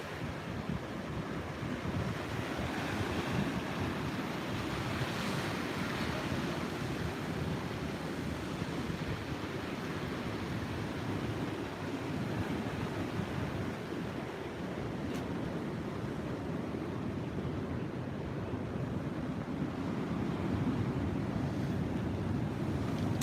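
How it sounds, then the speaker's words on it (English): Sea waves wash over a rocky reef at a seaside park during a fishing competition, a continuous soft rolling surf with steady wind noise and no voices. "there's a few waves that will push over here and get the boys nice and wet"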